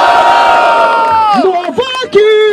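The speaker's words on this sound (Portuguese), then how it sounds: "Barulho para as rimas de do rap." Crowd at a street rap battle roaring and cheering loudly, a dense sustained wall of shouts with whoops and raised voices rising out of it.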